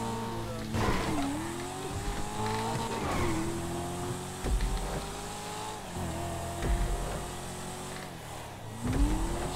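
Race cars in GTA V roar continuously, with engine tones rising and falling through repeated gear changes and tire squeals. The cars sound close and stay loud and dense throughout, with no clear talking over them.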